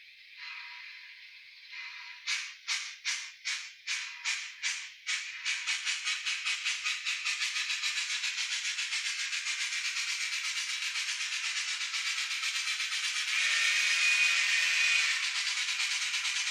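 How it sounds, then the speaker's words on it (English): Model railway locomotive on a layout track, starting with a series of rhythmic chuffs that quicken and merge into a steady, continuous hiss that grows slightly louder near the end, close and alone. "Let's give the old locomotive a once around the track."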